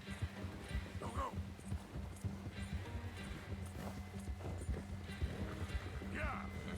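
Rhythmic clip-clop of horse hooves in Red Dead Redemption 2, with a brief whinny, beneath a low hum and game ambience, while a player talks over it.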